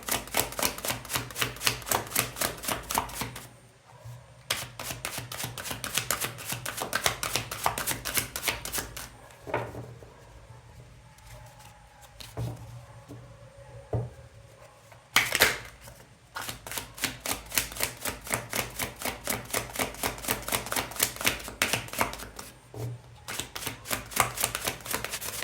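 Tarot cards shuffled and laid down in rapid, steady flicking bursts, close and fairly loud, broken by a few short pauses and the odd sharper tap, with no talking over them.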